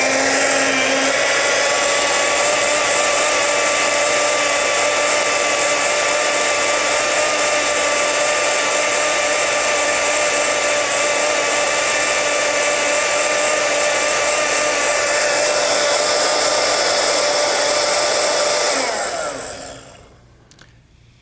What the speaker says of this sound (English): Now I'm going to blend it for a little while.